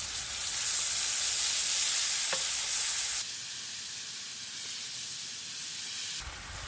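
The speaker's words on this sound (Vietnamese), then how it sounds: "Rồi mình xào lên nha" Chili powder paste sizzles and hisses steadily as it is stir-fried in a pan, loud and close, with the frying noise easing slightly partway through and no talking.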